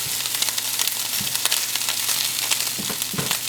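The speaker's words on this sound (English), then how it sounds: "I kind of like to get that color on my sausage first, and then kind of break it up and let it keep on going for a minute" Sausage browning and crumbling in a frying pan, a loud, dense, continuous sizzle with occasional scraping taps as the meat is broken up.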